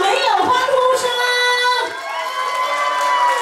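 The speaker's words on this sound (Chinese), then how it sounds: "有没有欢呼声？" Wedding dinner guests at Ming Garden in Penang cheer and whoop loudly as a crowd, with shouts and claps blending into a continuous roar that briefly dips midway before rising again.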